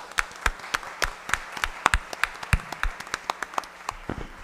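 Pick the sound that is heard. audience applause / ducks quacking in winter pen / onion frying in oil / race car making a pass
audience applause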